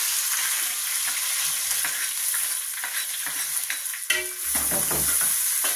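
Onions sautéing in a hot pan, a steady broad sizzle with scattered stirring scrapes and a louder clatter near the end as more onion is tipped in; no one speaks.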